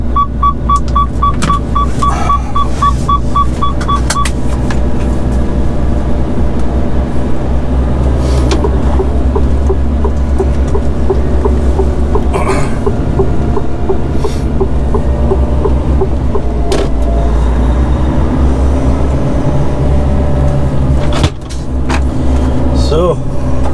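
A car drives along a road with steady, loud engine and road rumble throughout, a brief beeping chime near the start.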